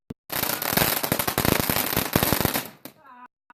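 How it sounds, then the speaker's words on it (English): Fireworks and firecrackers go off on fireworks night in a loud, rapid volley of sharp cracks and bangs that runs for a few seconds, then stops abruptly. "So someone entrusted these three with fireworks"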